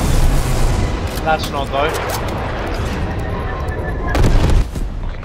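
Explosions and heavy gunfire from a strafe run in Call of Duty Black Ops Cold War, a loud continuous roar of booms and rapid fire with a louder burst near the end, while people talk over it.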